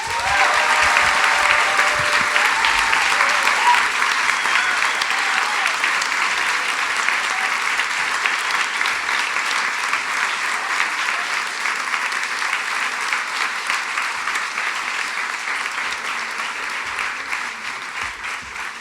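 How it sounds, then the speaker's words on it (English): A large audience at the Munich Film Festival applauds as a guest arrives on stage, dense sustained clapping filling the hall, loud at first and slowly easing off over nearly twenty seconds. "please welcome with a big applause, Ralph Fiennes."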